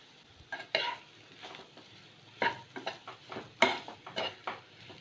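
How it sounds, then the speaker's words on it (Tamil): Mashed potato being stirred into fried masala in a pan for aloo paratha stuffing. Close, soft, irregular scraping and clinking of a spoon against the pan comes in short bursts over a faint background. "இப்போ இந்த சமயத்தில் வந்து நம்ம மசிச்சு வச்சுருக்க உருளைக்கிழங்கு இதில் ஆட் பண்ணிக்கிறேன். இது நல்லா கலக்கி விட்டுடலாம்."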